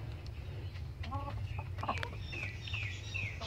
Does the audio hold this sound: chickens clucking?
yes